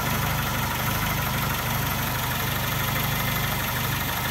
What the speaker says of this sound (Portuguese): A marcha lenta da Pampa,